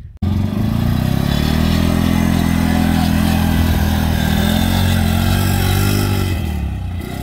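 Can-Am 6x6 ATV with a 450 single-cylinder engine running loud and close, a steady throbbing drone that holds nearly level throughout with slight rises and falls in pitch.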